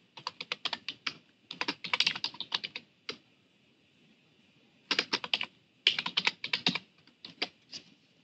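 Fast typing on a computer keyboard, close and crisp, coming in quick rattling bursts of keystrokes separated by short pauses, with no talking.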